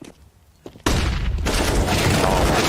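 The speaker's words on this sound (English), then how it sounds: "Oh, flashbang comes" A flashbang grenade detonates in the tactical shooter CS:GO during a pro esports match, a sudden loud blast after a quiet, thumping lead-in, followed by dense, sustained roaring noise and rumbling gunfire.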